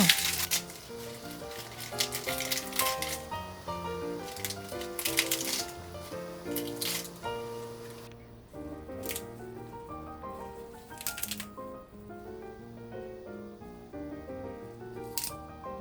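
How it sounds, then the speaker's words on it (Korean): Crisp lettuce and chicory leaves are torn by hand into bite-size pieces for a fig salad, close crackly rips in short bursts over soft background music. "양상추와 시커리한입 크기로 뜯어서 접시에 담아주시고요"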